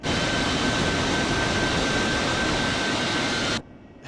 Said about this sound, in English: This is full nozzle position back, so basically reverse thrust.